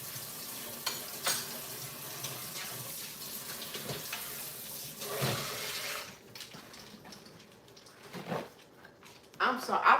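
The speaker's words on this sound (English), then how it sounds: "I like to clean my air fryer tray between everything" Water running and splashing as an air fryer tray is washed in a sink, a steady gushing wash with clatters of handling that thins out midway, and a voice talking over it.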